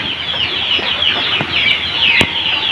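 A fast rooster on a poultry farm, clucking and calling repeatedly at close range, with a couple of sharp louder calls near the end over steady farmyard background.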